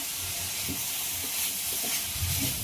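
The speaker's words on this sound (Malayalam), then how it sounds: "നമുക്ക് ഇളക്കി കൊടുക്കാം" Leaf thoran is stirred in a pan amid a constant sizzling hiss, with a few soft scraping stirs standing out near and fairly loud throughout the short stretch.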